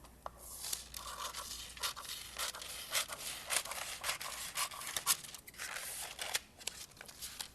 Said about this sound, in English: then crease it, and then cut along this line